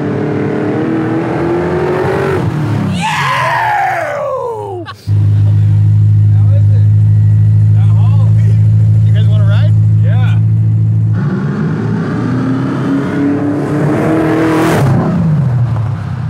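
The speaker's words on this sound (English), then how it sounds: "We're testing the car. We're getting it street tuned." A race car on a street tune test drive, its engine revving in loud rising and falling sweeps, then holding a steady droning pull before easing off. Voices talk over the engine at the start and end.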